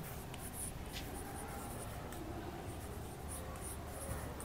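A teacher writes out a chemistry rule about atomic structure, with continuous close scratchy writing strokes and faint high squeaks, steady throughout.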